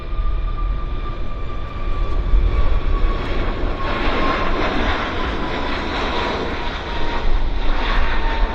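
A Boeing 737 rolling down the runway at Vancouver Airport for takeoff, a steady loud jet engine roar with a whining tone that swells and thickens as the aircraft accelerates, heard from a distance.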